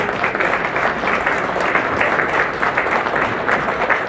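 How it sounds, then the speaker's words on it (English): Audience applause at a Republican social event greets young Republicans coming up onto the stage, a dense, loud and continuous wash of clapping with no pauses and no talk over it. "you can give them a round of applause as they come up"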